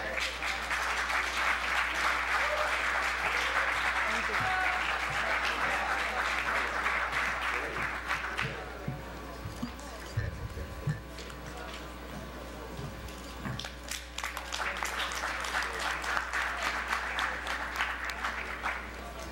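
An audience claps warmly at the close of a wrap-up session, dense steady applause that thins in the middle before swelling again to a full round, with faint voices beneath.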